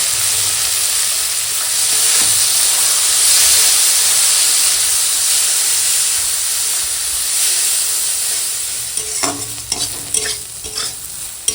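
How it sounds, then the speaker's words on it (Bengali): Pieces of bitter gourd fry in hot oil with salt and turmeric, a loud, steady sizzle that runs throughout, with scraping stir strokes and clatter toward the end. No one talks. "করলাগুলো এরকম নেড় নেড়ে সুন্দর করে ভাজা হয়ে গেছে"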